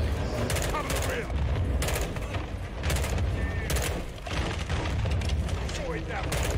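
Dense, continuous battle noise from the video game Modern Warfare II, with repeated loud booms and sharp bursts of gunfire during a grenade-launching assault, overlapping thuds and crackles with voices underneath.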